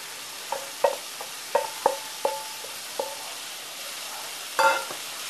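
Steamed banana flower bhaji being stirred and mixed in a pan, with a string of soft spoon scrapes and clinks against the metal over a faint sizzle, ending in a slightly louder scrape.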